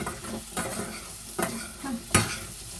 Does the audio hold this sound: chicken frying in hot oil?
yes